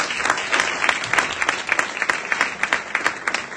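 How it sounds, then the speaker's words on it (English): An audience at a talk claps together in a lively, uneven patter, with individual sharp claps poking out of the steady applause. "give yourself a round of applause"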